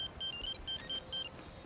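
A mobile phone rings with a bright electronic ringtone, short chirping bursts repeating in a quick, regular rhythm at moderate volume with no voices.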